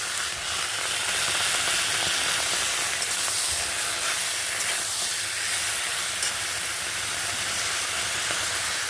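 Tomatoes hitting a hot pan for homemade tomato chutney, a loud continuous hissing sizzle with steam that holds steady throughout, no voices.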